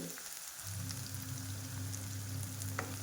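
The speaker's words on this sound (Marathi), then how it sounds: "फ्राय करून घ्यायचे आहे" Garlic and fenugreek leaves frying in a pan for lasuni methi, a steady close sizzle with a low hum beneath and occasional faint pops, no talking.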